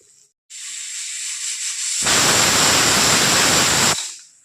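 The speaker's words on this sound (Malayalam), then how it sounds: "ഇപ്പോൾ 1 വിസിലടിച്ചിട്ടുണ്ട്." A pressure cooker making tomato rasam vents steam with a loud, close, sustained whistling hiss that swells into a harsh, full-bodied rush for about two seconds before dying away.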